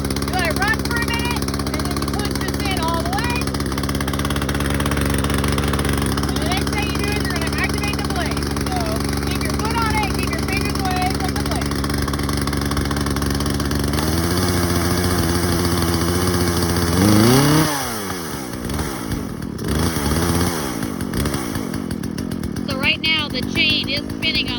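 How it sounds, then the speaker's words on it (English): A chainsaw idles loudly after starting, its chain spinning on the bar, a steady close droning engine note that shifts pitch partway through, with a rising then falling rev near the end and talk over it. "The chain is spinning on the bar. It is spinning on the bar, so just be really careful about what you do now."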